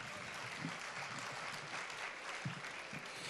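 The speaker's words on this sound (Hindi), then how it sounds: "एक बार तालियां तो बजाइए" An audience claps steadily at a Hindi poetry recital, a kavi sammelan at Sahitya Aajtak 2024, with dense, even applause filling the hall throughout at a constant level.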